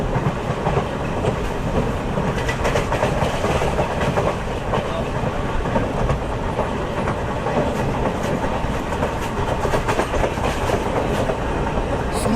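A train runs on rails through the Western Ghats near Puttur in Dakshina Kannada, giving a loud, continuous rolling clatter and rumble of wheels and carriages that holds steady throughout.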